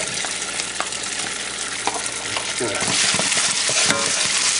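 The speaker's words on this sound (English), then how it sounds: "taking some of the oil, going to put the gnocchis in the pan here" Ricotta gnocchi sautéing in oil in a pan, a bright steady sizzle that swells louder partway through, with scattered clinks and scrapes of stirring up close and no voices.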